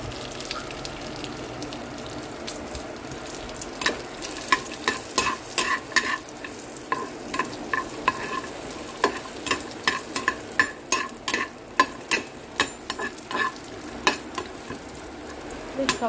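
Chopped almonds and cashews are stirred as they fry in a pan, a soft sizzle beneath repeated close scraping and clinking strokes that come in an irregular rhythm, growing busier in the second half.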